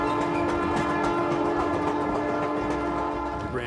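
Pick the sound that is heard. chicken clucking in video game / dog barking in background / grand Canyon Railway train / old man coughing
grand Canyon Railway train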